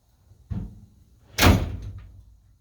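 A metal toolbox drawer in a workshop is pulled open with a short scrape and then shut with a sharper, louder clunk, two close sounds about a second apart, with no voices.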